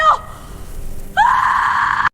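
A woman screaming in a palace after a scorpion attack: a short cry, a pause, then a loud sustained high-pitched scream held for about a second, close and alone.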